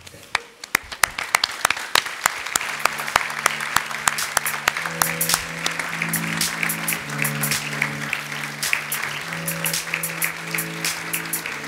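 Audience applause rings out at a Master Finance graduation ceremony, a dense crowd clapping steadily throughout while a musical tune with sustained notes plays alongside.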